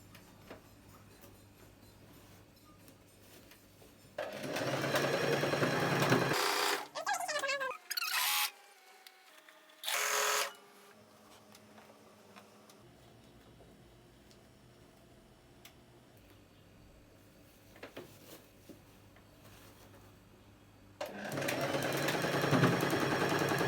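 A sewing machine stitches an elastic band onto a waistline in several short, rapid, buzzing runs separated by quiet pauses and handling noises.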